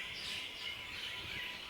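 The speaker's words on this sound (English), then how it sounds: "I don't know what type of birds they are. Noisy. All of them." Many noisy birds chirp and call together at Piton, Mauritius, a faint, steady outdoor chorus with no talking.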